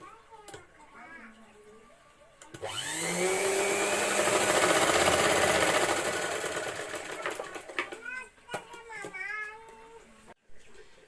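A sewing machine runs steadily for several seconds, stitching blouse cloth, loud and close, then slows into short bursts; a brief voice is heard near the start.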